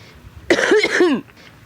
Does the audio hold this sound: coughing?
yes